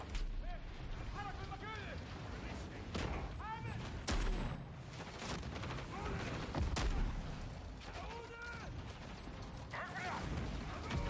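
Gunfire in a video game trailer, bursts of sharp shots and booming impacts spread through the stretch over a dense, loud action soundscape.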